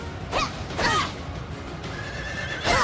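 A horse in the video game Fire Emblem: Three Houses whinnies in short bursts, three loud neighs spread across a few seconds over faint clip-clop and game ambience.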